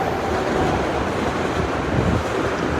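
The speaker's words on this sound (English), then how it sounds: "There's a train." A passing train rumbles faintly and steadily below a high vantage point at a filming location, its broad low roar mixing with wind and a distant surf-like wash.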